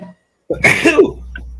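A single sharp sneeze bursts out close by after a short silence, followed by a faint low hum.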